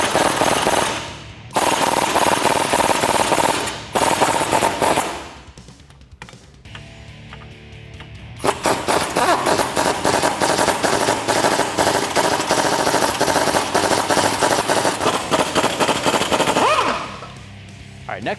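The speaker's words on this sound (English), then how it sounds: "I'm gonna use a 15mm socket on the bolt head and an 18 wrench on the nut on the other side." Rapid, loud mechanical rattling like an impact gun loosening a suspension bolt on a 2011-2020 Dodge Challenger R/T with a 15mm socket during an Eibach Pro-Plus kit install, in long bursts separated by brief pauses.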